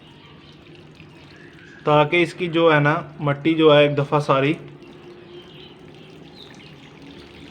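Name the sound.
watering agave plant babies with a shower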